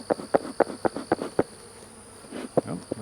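Honeybees at an open hive during a hive merge give a series of loud, close buzzing bursts in quick succession, then a pause and one more burst, over a faint steady hum.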